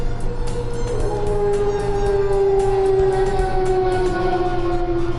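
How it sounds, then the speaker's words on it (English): Motorcycle sound effect in a visual-novel game: a loud, steady engine drone with a tonal whine that holds and slowly rises, running continuously over a low rumble with no voices. "That was a motorcycle."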